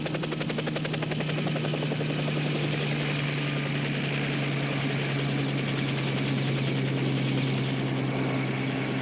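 Retrieval helicopter hovering during the 1969 Apollo 11 splashdown recovery, a loud continuous rotor thump and engine drone that holds steady throughout with no talk.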